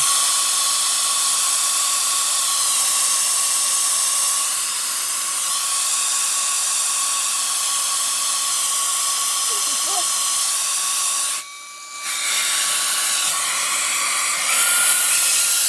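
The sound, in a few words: rechargeable USB electric duster blowing dust from a sewing machine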